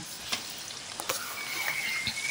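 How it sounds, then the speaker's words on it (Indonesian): Pindang-cured tuna frying in hot oil gives a steady, low sizzle with a few brief spatters and pops, heard close and on its own with no talk. "Sekarang kita mau goreng dulu ikan tongkolnya."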